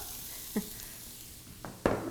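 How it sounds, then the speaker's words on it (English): Faint background hiss with a few short bursts of sizzling, the last one loudest, as onion hits hot oil; no talking. "That's a good sizzle."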